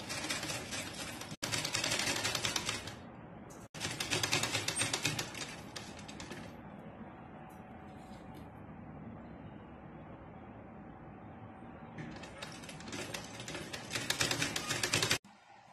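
A sewing machine stitching the neckline of a saree being made from an old lehenga, with loud rapid whirring bursts in short runs separated by brief stops and a quieter mechanical hum between stretches.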